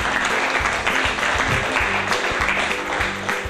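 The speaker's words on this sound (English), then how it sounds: "A round of applause for Vernon." Crowd applause at a tennis club gathering honouring a long-reigning local champion, steady dense clapping throughout, loud and close with a faint murmur of voices underneath.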